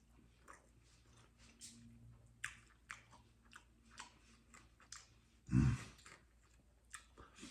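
A slice of Pizza Hut Big New Yorker pizza with crunchy, piping-hot crust is chewed close to the mic: soft, rhythmic bites and crunches about every half second, with one louder crunch near the end.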